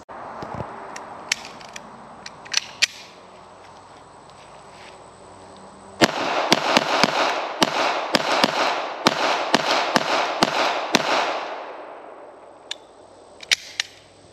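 A factory-fresh HK P7-M13 pistol from West Germany is fired in scattered single shots at first, then a fast string of a dozen sharp cracks close by, followed by a few more isolated shots.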